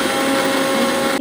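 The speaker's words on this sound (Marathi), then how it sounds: "मिक्सरला बारीक करून घ्यायचं" A mixer grinder whirs loudly and steadily at close range while grinding ginger, garlic, salt and green chillies into a paste, then cuts off abruptly.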